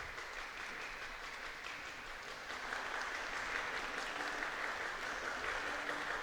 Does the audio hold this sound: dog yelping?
no